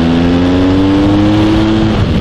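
A motorcycle pulls away from green traffic lights, its engine note climbing steadily as it accelerates hard, loud and close throughout with no talk.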